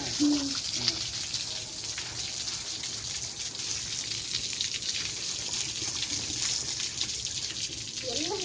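Waste water from a rental house flows in a steady, continuous gush, close and moderately loud, holding an even level throughout without talk.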